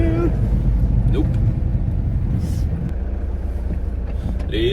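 Ford MK3 Escort racing van driving, a loud steady low engine rumble and road drone filling the cabin, with brief clicks and bumps on top.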